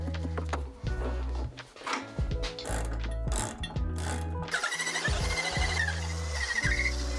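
Holes in a workbench being reamed out, close mechanical grinding and ratcheting with stuttering clicks and irregular scraping, continuous and moderately loud with no talking.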